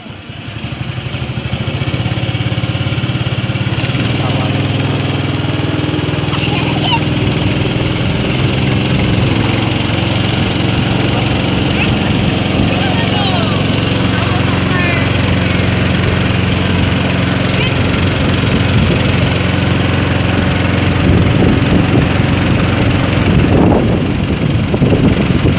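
Boat engine running steadily close by during a ride at Srigethuk waterfall in Gunung Kidul, Yogyakarta, a loud continuous droning hum that persists throughout with a brief voice near the start.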